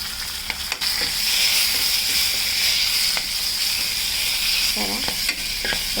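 Ajwan leaves fry with turmeric in an oiled pan for a pickle, a loud continuous close hiss and sizzle with faint stirring scrapes and no talking.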